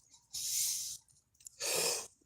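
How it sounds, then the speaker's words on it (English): Two separate sneezes from one person, each a sharp breathy burst lasting about half a second, close and fairly quiet, with a short pause between them. "Sneeze."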